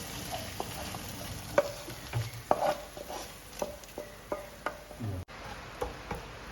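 Prawns tipped with their oil into a frying masala for prawn biryani, with an intermittent sizzle and a series of sharp spoon scrapes and taps against the pan, close and moderately loud with no talking.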